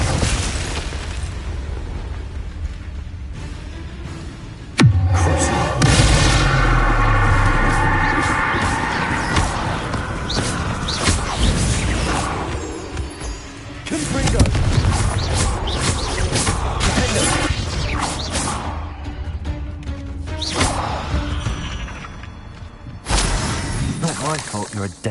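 A Confringo fire spell in Hogwarts Legacy goes off as a loud burst about five seconds in and then roars on with crackling, booming blasts. Further blasts follow near the middle and the end over a dense game soundscape.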